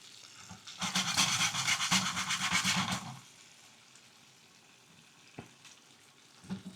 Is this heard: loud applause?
no